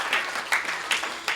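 A church congregation claps in thanks for volunteers who served in the cafeteria and in prayer, a moderate spread of clapping with a few sharper, louder bursts standing out at a steady, loose rhythm.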